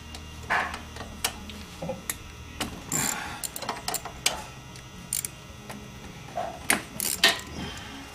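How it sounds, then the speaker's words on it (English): A ratchet clicks in short, irregular bursts while 10mm bolts are backed out of the throttle body on a Ford Ranger 2.3L, with sharp metallic ticks and small knocks up close. "the next thing I'm going to do is start taking off these main bolts, which is a 10mm"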